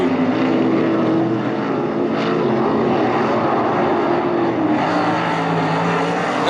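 Several 305 sprint cars race in a heat at Attica Raceway Park, a dirt oval, their engines a loud, continuous roar that holds steady throughout with no talk over it.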